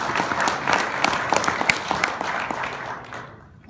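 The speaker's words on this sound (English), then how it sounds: "another round of applause for Mr. Tim Bauer, please" Applause from a convention audience at a trade show in Las Vegas, honoring a speaker after his talk, a dense patter of clapping that holds steady and then tapers off toward the end.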